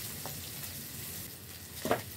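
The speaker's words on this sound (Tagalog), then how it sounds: "Ipiprito." Chicken feet frying in oil, a soft steady sizzle with a couple of faint scraping knocks, the second near the end louder, close and without talk.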